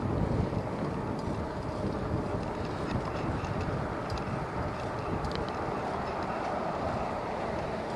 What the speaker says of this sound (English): the high wind started yesterday for some reason